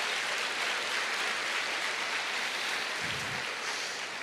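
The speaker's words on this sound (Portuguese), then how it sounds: "Vamos dar uma salva de palmas," A church audience gives a sustained round of applause, dense and even clapping filling the room continuously without pause.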